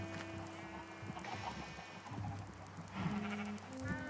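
Sheep in the Minecraft video game bleat faintly among other farm animals, with a few short, quiet calls over a low, busy background.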